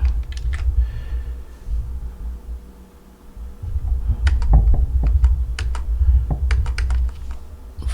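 Keystrokes on a computer keyboard during coding work, a quick run of clicks at the start, a pause, then a denser burst of crisp taps over a low steady room hum.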